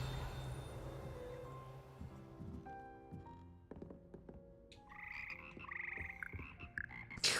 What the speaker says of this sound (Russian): Хор жаб.